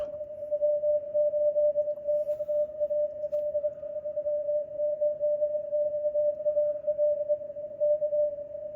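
Steady whistling tone over a soft bed of hiss from a ham radio receiver tuned to CW, holding one pitch throughout with no speech.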